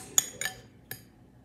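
Three light clinks of a spoon scraping cooled chocolate against a bowl, short and spaced apart in a quiet room.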